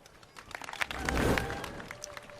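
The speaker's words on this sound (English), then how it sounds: "Muted round of applause for the Americans there" Faint, scattered applause from a distant crowd at a triathlon race in London swells briefly and fades, subdued throughout.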